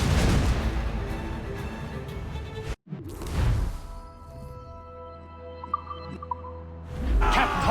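Ship cannons in Assassin's Creed Rogue fire in heavy booming blasts during a naval battle, one big volley, a sudden cut, then another roaring discharge, with scattered cracks and a final burst.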